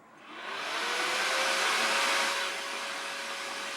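A Fitmetria Fitfan indoor exercise fan whirs up to 100% speed, a steady broadband rushing hiss with a faint tonal whine, close and even once it settles.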